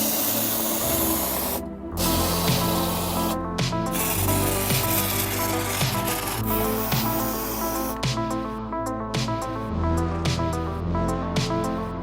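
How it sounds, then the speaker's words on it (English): Spray foam hisses in long bursts into the walls of a van, a close, loud, airy spray with short pauses between passes, over background music. "So for these, we're going to use spray foam."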